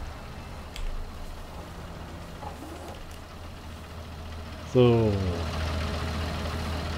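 Tractor engine in a farming video game idles with a low, steady rumble that jumps to a louder, harmonic revving note about two-thirds through and holds there; a voice speaks briefly.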